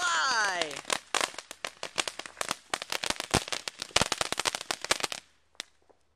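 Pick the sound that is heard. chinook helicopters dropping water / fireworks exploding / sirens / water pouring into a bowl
fireworks exploding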